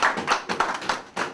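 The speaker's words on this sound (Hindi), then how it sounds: "तालियां!" Audience at a political speech claps in short, crisp bursts, a handful of sharp hand claps spread across a brief moment, close and fairly loud.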